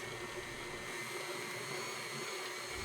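A stand mixer runs at medium speed, working a wet, sticky squash bread dough, giving a steady, continuous motor whir with no pauses and no talk.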